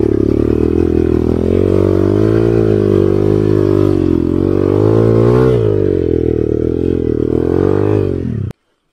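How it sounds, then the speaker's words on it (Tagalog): An enduro motorcycle climbing a hill, its engine loud and close in a sustained, laboring drone whose pitch wavers and rises with throttle before cutting off abruptly at the end. "Ako naman mag-aahon itong motor ko."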